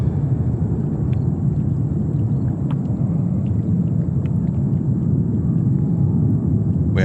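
Aircraft overflight at JFK Airport, a steady low jet rumble sustained throughout, loud and continuous with no talk.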